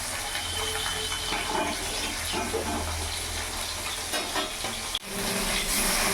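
Bata fish frying in a pan for a mustard curry, a dense, steady sizzle and crackle running loud and close throughout, with a brief dip near the end before the spitting resumes.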